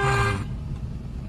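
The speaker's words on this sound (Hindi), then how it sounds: "लॉन्ग हॉर्न पुश करो मैडम को" A car horn blares for under half a second, then cuts off, leaving a low engine and road rumble.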